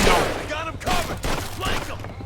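Gunfire in Mafia II, several close sharp bursts of shots in quick succession, loud and punchy with a few gaps between volleys.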